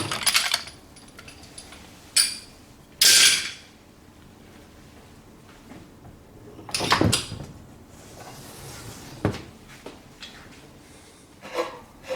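A Lincoln Walker 10 ton Porta Power hydraulic hand pump is taken apart on a bench, giving sharp metallic clanks, scrapes and taps separated by quiet gaps.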